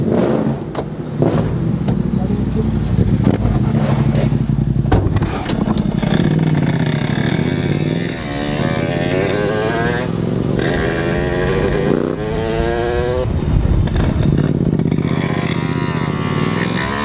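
A Derbi DRD Pro motorcycle starts up and revs repeatedly, its loud, raspy engine rising and falling in pitch up close, with some clatter and people talking in the background.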